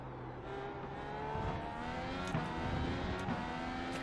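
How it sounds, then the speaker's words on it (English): In the iRacing simulator a race car engine drones under load, its tone rising gradually as it accelerates and then holding steady, with faint shift or bump blips and no talking. "this car sounds really good on iRacing"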